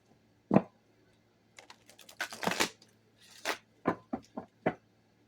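Tarot cards are shuffled close by in quiet bursts of riffling and soft slaps, with pauses in between and no talk.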